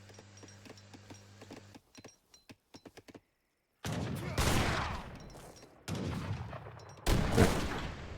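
Musket volleys crackle in a strategy game battle, first a quick run of separate sharp shots, then dense rolling bursts of massed fire that swell and break off in several waves, fairly loud.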